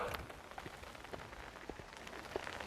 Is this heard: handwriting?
no